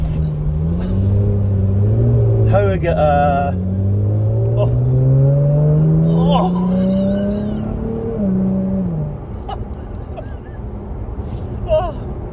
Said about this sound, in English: the sound of this thing is just incredible. So this is my 2018 Jaguar F-Type.